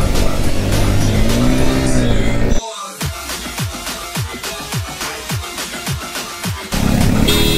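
KTM RC390 and RR310 motorcycles drag race in city traffic, engines revving hard through a rapid series of gear changes while a voice talks excitedly at the start and end.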